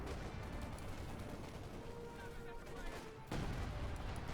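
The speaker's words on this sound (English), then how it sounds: "Artillery called in here, forcing the Germans off the northern point." An artillery barrage in Company of Heroes 2 rumbles through as dense, rapid booms and crackling fire under a commentator's voice, with a louder surge of explosions near the end.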